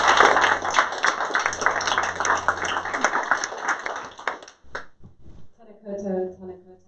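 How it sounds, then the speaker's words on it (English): An audience claps steadily for Julianne, a parking policy expert, at a women-in-STEM and infrastructure careers event. The dense applause fades after about four seconds, and a voice then begins speaking. "Please give Julianne a round of applause."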